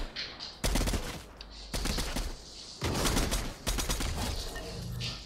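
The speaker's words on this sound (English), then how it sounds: "This assault rifle is actually better." Assault rifle gunfire in the Fortnite video game, loud and close, fired in several sustained automatic bursts separated by brief pauses.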